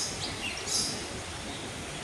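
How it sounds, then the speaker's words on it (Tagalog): Many birds of different kinds chirp and tweet in an urban park in Hong Kong Central, with thin, high calls scattered over a steady wash of background noise, moderately distant and fairly faint. "Iba't ibang klase ng ibon."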